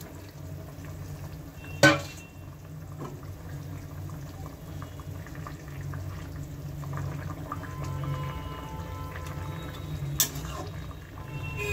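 Fried katla fish simmers in a tomato curry with a low, steady bubbling, and two sharp clinks of a utensil against the pot.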